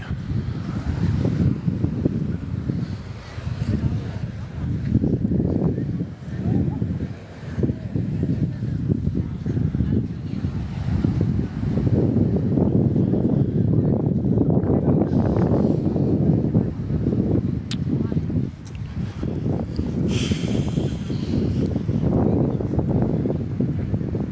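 Steady wind buffets the microphone in a low, gusty roar on a beach by the sea, with a faint wash of surf and occasional voices underneath.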